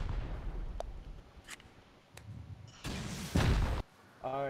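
During a base raid in Console Rust, a rocket explosion booms as a single loud broadband blast, set among scattered sharp gunshots and quieter background game noise.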